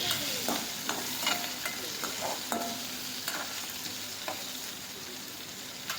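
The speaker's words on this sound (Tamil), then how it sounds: "வெங்காயம் வெந்ததும் இப்போது அந்த சின்ன தக்காளியை கட் பண்ணி உள்ளே சேர்த்துடலாம். லைட்டாக கிளறி விட்டுக்கோங்க" Chopped onions and small tomatoes sizzle steadily in a pan while a spoon stirs them, with light scraping clinks scattered over a continuous frying hiss.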